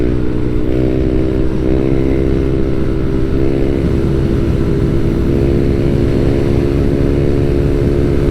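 A group of motorcycles riding on a coastal road toward Kaybiang Tunnel in the Philippines, with loud, steady engine drone and rumble filling the whole stretch and no talking.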